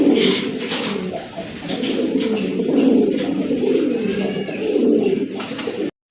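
Pigeons cooing nearby, including a large male Tiger Grizzle, a continuous overlapping murmur of low throaty coos rising and falling in waves, loud and close with no talk.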